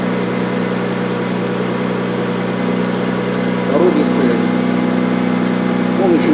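A Lexus RX300 Turbo with a custom exhaust idles cold at raised revs, a steady close-up drone that swells slightly toward the end while someone speaks over it.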